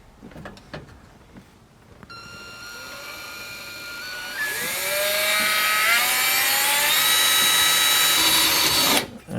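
Power drill spinning up to full speed during a mechanical oil pressure gauge install on a 1984 Chevy C10, a loud steady high whine with rising pitch sweeps that holds for several seconds before cutting off.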